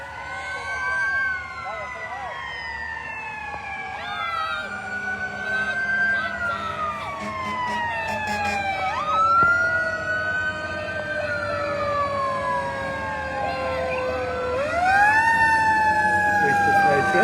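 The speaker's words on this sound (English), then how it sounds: "Here's the fire trucks." Several fire truck sirens wail and sweep up and down together at a street parade in Yorkville, Pottsville, Pennsylvania, loud and overlapping throughout, with a voice speaking briefly over them.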